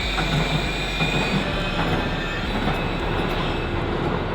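A tram rolls past at night, a loud, steady rumble of wheels on rails with a broad rushing noise that holds evenly throughout, close by and with no voices.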